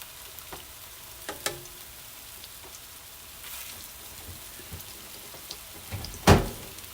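Turkey Swedish meatballs sizzle in a frying pan with a soft, steady crackle, broken by a few faint clicks and a sharp, loud clatter near the end.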